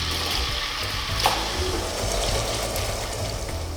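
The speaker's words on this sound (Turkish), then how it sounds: "Hazırlanan güllükler eritilmiş tereyağı ve sıvı yağla kızartılır." Small meatballs frying in a mix of melted butter and oil for a regional Alanya soup, giving a steady, close, crackling sizzle that holds evenly throughout with no voices.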